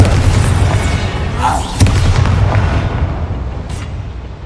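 The Bombarda explosion spell in the Hogwarts Legacy video game sets off a deep booming blast, loud and rumbling, with a sharp crack partway through and a decaying tail.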